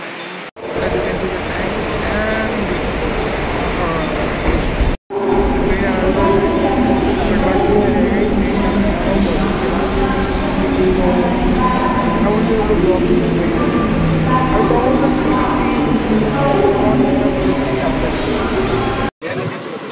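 Ride aboard a Mumbai local train, a steady loud rumble and rattle of the moving carriage running continuously, with brief cut-offs, and crowd chatter mixed in.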